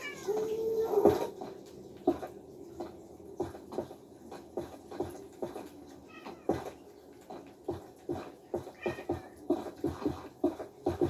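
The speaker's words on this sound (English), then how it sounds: "you're a little kitty. Can you go meow?" A cat meows in the Minecraft survival game, one clear meow near the start, followed by a steady run of sharp clicky taps and faint background game sounds.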